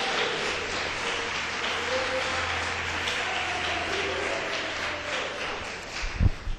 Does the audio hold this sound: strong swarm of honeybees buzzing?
no